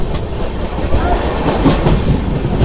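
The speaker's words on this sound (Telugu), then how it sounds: "ఆ ట్రైన్ వచ్చేసి మంచిర్యాల నుంచి అయితే బయలుదేరిపోయింది." The Telangana Express, a passenger train, runs on rails out of Mancherial, a loud steady rumble with rhythmic clickety-clack from the wheels and no talk.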